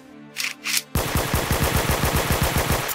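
Rapid automatic gunfire in the Roblox Brookhaven video game, a steady rattling stream of close, loud shots following two short bursts of noise.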